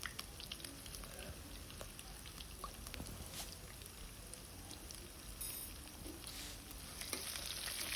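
Bay leaf, dried chili, onion and whole cumin frying in hot olive oil for a banana flower curry, a soft continuous sizzle and crackle with scattered pops, faint and steady, no talking.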